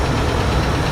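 The engine of a 1970 Ford F250 dually runs at a steady, slightly high idle, a loud close rumble with a continuous rough texture that could carry a faint lifter tick.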